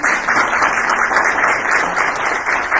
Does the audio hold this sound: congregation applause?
yes